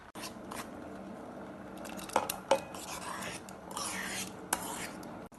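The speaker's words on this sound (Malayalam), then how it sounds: "2 ടേബിൾ സ്പൂൺ കണ്ടൻസ് മിൽക്ക് ചേർത്ത് ഇളക്കി മിക്സ് ചെയ്യാം." Condensed milk being stirred into custard apple payasam with a spoon, giving soft scraping and a few sharp clinks against the pan, close and moderate in level with no talking.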